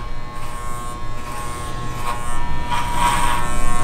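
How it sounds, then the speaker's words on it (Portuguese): Electric clippers shave a man's head, a steady close buzz running throughout and growing louder and denser toward the end, with no talk. "Nem era pra eu estar raspando a cabeça."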